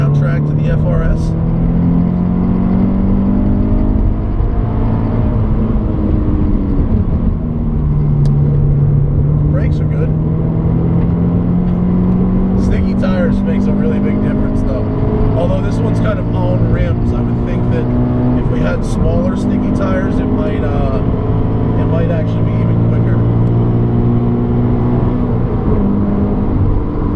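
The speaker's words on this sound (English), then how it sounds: "This exhaust does add kind of a nice little soundtrack to the FRS." A Scion FR-S fitted with a TRD exhaust is driven on a track, the engine note loud and near, rising and falling steadily through revs and gear changes for the whole stretch.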